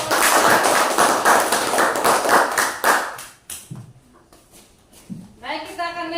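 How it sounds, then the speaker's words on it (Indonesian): A classroom of students claps after a group presentation, loud and brisk for about three seconds, then breaking into a few scattered claps before a voice begins speaking. "tepuk tangan untuk"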